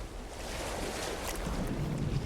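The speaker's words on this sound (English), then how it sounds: "Yeah, waves work now." Ocean waves wash steadily in No Man's Sky, a broad constant surf and wind hiss that swells slightly toward the end, with no voices.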